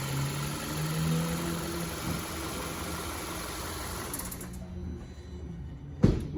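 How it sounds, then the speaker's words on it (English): Volkswagen Tiguan engine idling steadily with a mechanical whir and hum, then cut off around four seconds in, leaving near-quiet with a brief clunk at the end. "I'm going to shut this engine off."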